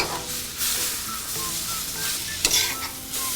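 Green beans sizzle steadily in melted butter in a pan, seasoned with lemon, garlic powder and red pepper flakes, with spoon-stirring scrapes and a brief sharper clatter partway through; no one speaks.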